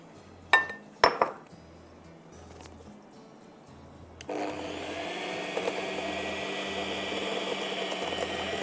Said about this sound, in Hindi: इसको हम बीट करेंगे with castor sugar half cup